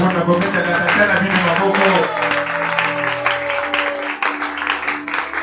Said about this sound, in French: je vous demande l'église d'acclamer pour votre Père